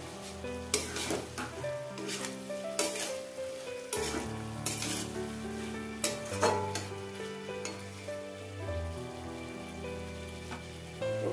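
Prawns and chopped coriander fry with spices in a pan for lau chingri, a bottle gourd prawn curry, their sizzle mixed with stirring clatter under clear background music.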